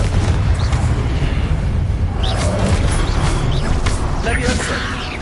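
Confringo fire spell explosions in Hogwarts Legacy, heard as a steady din of booming, crackling blasts with no break across the whole stretch, layered over game noise.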